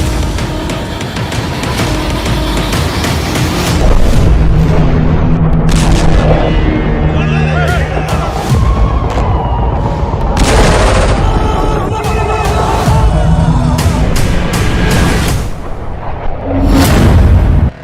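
Bombardment in Gaza: loud, dense explosions and rumbling booms come in rapid succession with crackling bursts like gunfire, close and sustained throughout with only brief dips.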